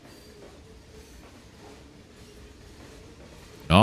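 A freight train of tanker cars rolls along in the railway simulator game Trainz 2022, giving a faint, steady rumble and wheel clatter that ends in a sudden loud burst.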